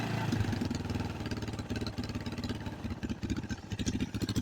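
A 2005 KTM 525 EXC dirt bike engine idles at a fast, slightly uneven rhythmic thump, heard up close and alone after a brief backfire.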